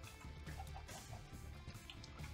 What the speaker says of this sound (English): Well, it's a chicken.